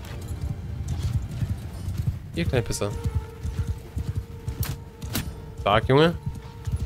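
A horse in the video game Mount and Blade 2 Bannerlord clops along in rapid galloping hoofbeats and lets out two sharp whinnies, close and loud, while someone talks over it.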